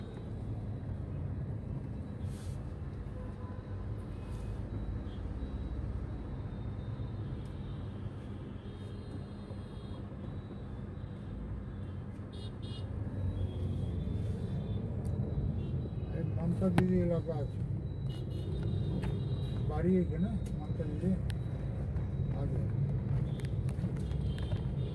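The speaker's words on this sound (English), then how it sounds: "These blue colored buses are all private buses, which you will get to see in Kolkata." Steady roar of busy street traffic on a Kolkata road lined with blue private buses, a continuous engine and tyre rumble with passing vehicles and scattered horn-like tones, loud and unbroken throughout.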